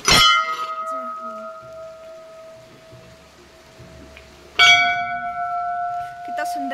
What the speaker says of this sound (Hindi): बजाते हैं घंटी